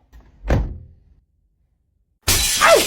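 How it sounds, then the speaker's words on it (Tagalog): A drinking glass shatters loudly and close by after a dull knock and a brief silence. The crash is a bright, noisy burst of breaking glass. "Ano yan, nabasag? Bitawan ko yung baso"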